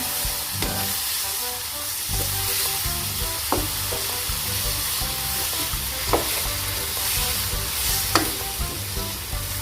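Minced pork stir-fried in a wok with fingerroot, a splash of water added, sizzling loudly and steadily with scattered clicks and scrapes of the spatula as the mixture is tossed, no talking.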